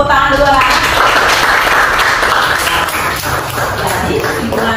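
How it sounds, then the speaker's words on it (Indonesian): A classroom of students clapping their hands together after a presentation: a dense, steady patter of claps throughout, with voices talking underneath. "Tepuk tangan dulu lah."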